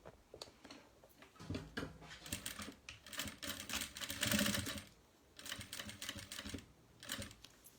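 A home sewing machine stitching fabric for a toiletry bag, running in fast bursts of rapid mechanical clatter with brief pauses in between, steady and fairly close.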